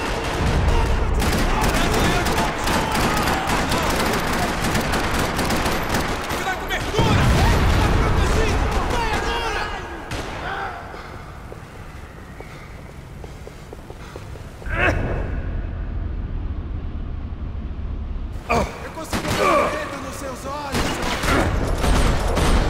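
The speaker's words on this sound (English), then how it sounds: "Another parking lot rattling with gunfire." Gunfire rattling through a parking lot in the video game Max Payne 3, bursts of shots and crashes with quieter stretches between, loud and dense at first, then sporadic.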